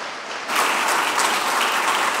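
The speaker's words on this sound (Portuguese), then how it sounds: "E pode aplaudir ao Senhor, porque isso é bênção na nossa vida." A church congregation applauds during a sermon, with loud, dense clapping swelling after a brief quieter start and then continuing steadily.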